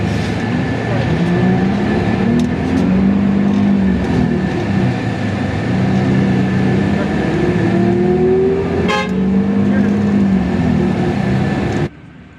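Steady, loud interior rumble of a new green city bus on a ride in Quetta, its engine and drivetrain rising and falling in tone through gear changes, with a brief clatter partway and an abrupt drop at the end.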